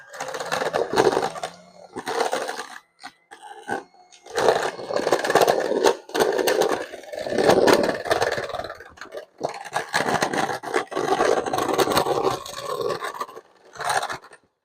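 An electric mixer whirs loudly in bursts, its motor rising and falling with clattering, scraping noise as it creams thick pineapple nut cake batter.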